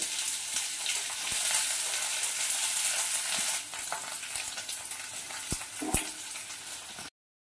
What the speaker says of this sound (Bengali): এবার প্রথমে আমি বিনসগুলো ভেজে নেব।